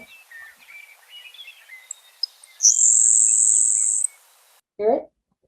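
A grasshopper sparrow's thin, high insect-like buzz holds steady for about a second and a half after faint twittering calls, then a brief low rustle follows.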